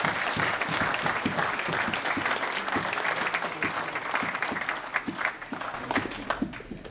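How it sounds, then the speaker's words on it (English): Applause at a martial arts brown belt promotion, sustained clapping from a small group with distinct individual claps, gradually thinning out toward the end. "I really wanted to let that applause go"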